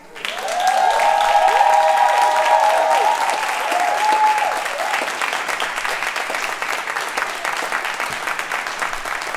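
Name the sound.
audience applause for Kai Smith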